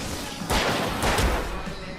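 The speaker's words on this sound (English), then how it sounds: "I can set off more of the fireworks from here and help you out!" Fireworks in the video game Alan Wake, set off at an outdoor stage during a fight: two sharp bursting cracks a half second apart, loud and close, with a brief crackling tail.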